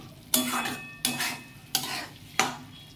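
Homemade tomato puree stirred into chana dal frying in a pan, four distinct scraping stirs with sizzling bursts, close and loud with no talking.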